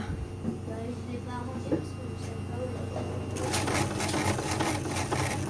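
A sewing machine stitches a fabric face mask, its motor starting into a rapid, steady whirring halfway through, over a constant low room hum.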